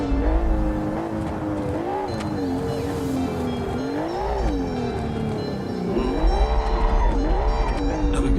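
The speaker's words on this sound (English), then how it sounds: "This car is so fast." A fast car in the BeamNG.drive driving game, its engine note revving and sweeping up and down steadily throughout, with tire skids mixed in, loud and continuous with no talking.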